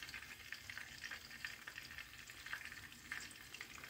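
Chicken pieces coated for crispy frying crackle steadily in hot oil in a pan, a dense continuous sizzle with small pops throughout, close and fairly loud with no voices.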